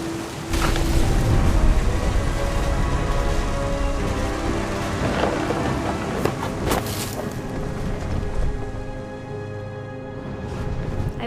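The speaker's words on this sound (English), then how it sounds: "The thunder sounded much too close and full of angry power" Rainstorm with thunder in the video game What Remains of Edith Finch, a steady heavy hiss of rain on surfaces with low rumbling thunder and sharper cracking bursts, continuous throughout.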